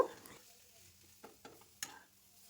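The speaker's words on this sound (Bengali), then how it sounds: "আলু দেবার পর মশলার সঙ্গে আলুটাকে ভালো করে কষিয়ে নেব" Boiled potato stirred with spices in oil in a pan, a quiet clip with a faint low sizzle and a few sharp spoon scrapes and taps spaced through it.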